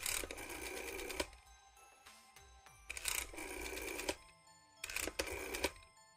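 A rotary phone dial in a Carmel Games video game turns in three bursts of rapid mechanical clicking and whirring, separated by short quieter gaps, with no voices.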